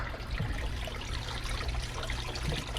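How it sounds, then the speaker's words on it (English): Water running steadily out of the bottom of an aquarium pump while a 125-gallon koi tank is being deep-cleaned, a close, continuous trickling gush with no talking. "you see the water coming out the bottom now?"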